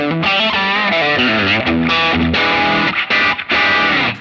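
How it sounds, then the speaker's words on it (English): An electric guitar through the Line 6 Helix Ventoux amp model plays a run of overdriven, distorted chords and single notes, thick and gritty, with brief choppy gaps near the end. "You can hear those overdrive tones loosen up and get a little flubbier."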